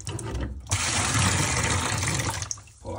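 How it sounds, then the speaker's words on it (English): Water gushes from the opened drain point of a central heating system filter into a bucket. The strong, steady rush starts abruptly, holds for about two seconds and then tapers off. "So you isolate it, open the drain point if there's one on the filter."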